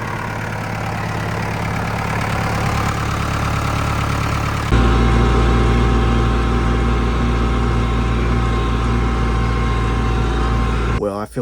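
A struggling farm tractor engine runs with a steady, loud mechanical drone that grows heavier partway through, then cuts off abruptly at the end.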